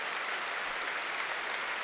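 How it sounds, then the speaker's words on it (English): Football stadium crowd at West Ham v Burnley applauding steadily in the 39th minute, a dense, even wash of clapping from thousands of fans that fills the whole moment without letup. "Applause in the 39th minute for Dylan Tambales."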